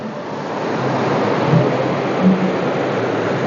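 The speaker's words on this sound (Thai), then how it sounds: "ฟังเสียงน้ำไหล" Steady rushing water flows continuously, a broad close wash of noise with no voices.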